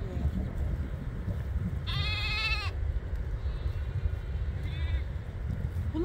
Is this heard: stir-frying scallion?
no